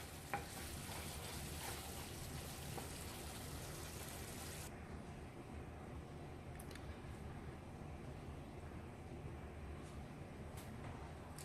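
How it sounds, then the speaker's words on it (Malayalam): Cooked rice being stirred into thick tomato gravy in a pan, the stove switched off, with a steady scraping, sizzling texture that turns softer partway through and continues close up with faint clinks. "ഇനി ഇത് നന്നായി മിക്സ് ചെയ്ത് കൊടുക്കാം"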